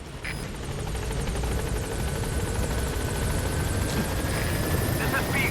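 A helicopter arrives in Metal Gear Solid V, its loud, steady rotor thrum and engine whine filling the whole stretch without a break.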